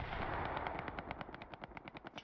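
Artillery guns firing almost constantly in the video game Hell Let Loose, a rapid string of sharp distant booms that grows into clearly separated rhythmic blasts, with no voices.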